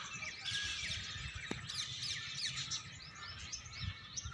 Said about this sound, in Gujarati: મીઠા પક્ષીઓનો કલરવ।